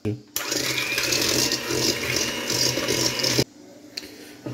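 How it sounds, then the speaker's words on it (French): An electric hand mixer whirs steadily while beating egg yolks with sugar, loud and close, running for about three seconds before cutting off abruptly. "Et on va blanchir les œufs. Donc moi je prends mon batteur."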